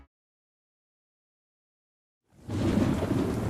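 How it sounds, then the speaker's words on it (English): Heavy rain with rumbling thunder in a radio advertisement, bursting in after near silence as a dense, loud, steady roar that holds to the end. "Man, it is really coming down out there."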